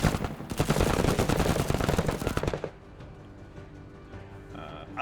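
Rapid bursts of automatic gunfire in the video game Menace, loud and sustained for a couple of seconds before cutting off abruptly into a quiet low hum.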